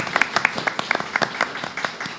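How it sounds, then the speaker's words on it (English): A small panel-discussion audience at a catalogue launch gives a brief, sparse round of applause, with a handful of distinct claps scattered unevenly across two seconds. "if I can have a round of applause for them"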